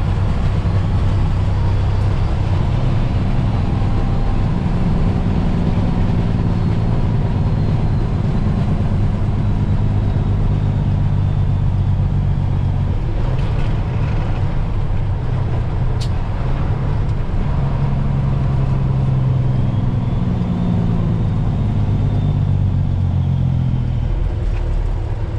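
A truck pulling a trailer turns into a yard to unload, its engine giving a loud, steady low rumble throughout, with occasional rattles on top.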